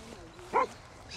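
Standard poodles in Sun Valley, Idaho give one short, sharp bark in the middle of the clip, with people talking nearby before and after.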